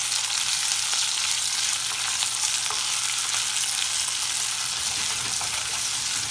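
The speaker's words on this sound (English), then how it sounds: "and we're still getting a lot more of that sizzle." Bell peppers sizzle in olive oil over high heat, a steady bright frying hiss with faint stirring clicks and no talking.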